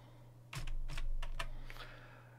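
Fingers type a short burst on a computer keyboard, a quick run of close, light clicks lasting about a second over a low steady hum.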